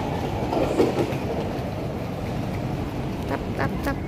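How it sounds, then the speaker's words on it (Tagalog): A Singapore MRT train rumbles along with a steady, close hum and faint clicking from the track, the noise holding level with small swells throughout. "Sakay na kami ng MRT."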